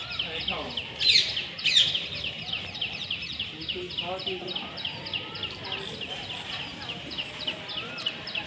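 Parrot calling from a tree on a rainy day, loud harsh squawks near the start followed by a long run of rapid repeated chirps, with other birds and faint voices behind.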